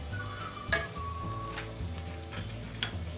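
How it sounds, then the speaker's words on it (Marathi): Peas in a pan with red chili powder and biryani masala are stirred over a steady background sizzle of frying, with a few sharp spoon scrapes and taps against the pan. "हे व्यवस्थित मिक्स करून घेऊया,"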